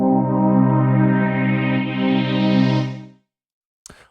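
A sustained synthesized MIDI chord plays back in Logic Pro, rich and steady with a slowly brightening tone for about three seconds before cutting off, followed by a short click.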